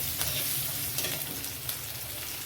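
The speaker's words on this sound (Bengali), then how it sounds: "রসুনটা দিয়ে ভালোভাবে নেড়ে চেড়ে নেবো" Ground garlic paste frying with spices in a pan for Bengali doi katla fish curry, stirred continuously: a close, dense sizzle with scraping and spatula strokes, no voices.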